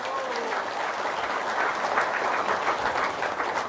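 Steady applause from a crowd, dense and sustained, with a faint voice mixed in beneath the clapping.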